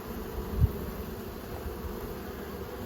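Honeybees hum around a wooden hive box with a bee bridge, a steady low drone of many insects close by, without talk.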